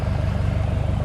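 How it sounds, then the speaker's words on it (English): The engine of a Dresser 100G track loader runs at a steady idle, a loud, continuous low rumbling drone with an even pulsing throb and no break. "Hopefully you can hear the loader in the background."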